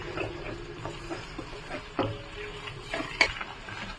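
Eggs being stirred and fried in a kadai with onions, a spatula scraping and clinking against the metal pan in scattered taps over a soft background sizzle, fairly quiet with no talking.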